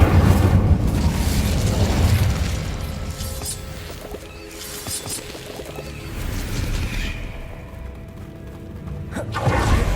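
A fire spell cast in Hogwarts Legacy on PS5, heard as a loud rushing burst of flame and booming impacts inside a tomb, swelling and fading in waves over about ten seconds.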